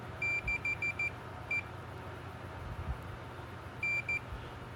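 A multimeter's continuity tester, probing a Gallagher fence charger cord, gives a rapid series of short, clear beeps, then one more, and after a pause two more, over quiet room noise.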